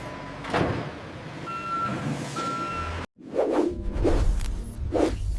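A temperature-controlled transport truck sounds its reversing beeps, a repeating pulsed tone over a loud engine rumble, followed by whooshing swells after a brief cutoff.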